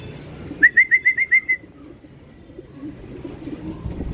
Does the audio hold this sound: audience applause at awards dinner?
no